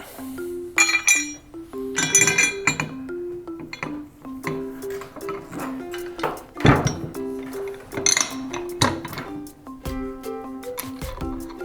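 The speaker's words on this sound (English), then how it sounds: "We're going to take the hook next, and we're going to drop the bolts into it." Metal bolts clink into a metal hook while a Riptide SL machine is being assembled, giving repeated bright clanks and rattles in irregular bursts with steady ringing tones between them.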